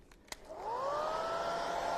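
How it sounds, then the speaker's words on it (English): A hairdryer switches on and blows over freshly painted stencils from a patriotic bundle, its whine rising then holding a steady, moderately loud hum after a couple of small clicks. "I'm going to hit that with the hairdryer while I'm chatting."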